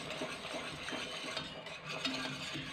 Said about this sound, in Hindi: अब मैं इसके अंदर ऐड कर रही हूँ जेलेटिन, और इसको 1 मिनट के लिए अच्छे से मिक्स कर लेते हैं